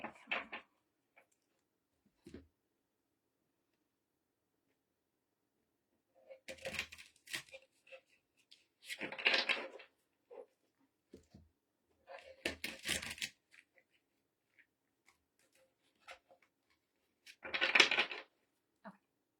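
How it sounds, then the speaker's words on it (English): A tarot card deck being shuffled by hand, several short bursts of riffling and slapping card noise separated by quiet gaps, close and fairly soft. "I am gonna shuffle the cards real quick."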